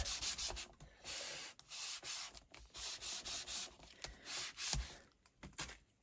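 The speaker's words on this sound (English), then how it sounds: "I'm going to get my pressure tool, and I'm just going to give it a really, really good rub" Paper card rubbed firmly with a pressure tool, heard as repeated rough scrubbing strokes in a steady back-and-forth rhythm, close and loud, with no talk.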